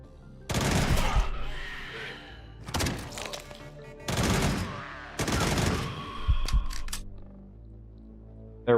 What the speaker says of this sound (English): We're gonna bounce a grenade in there.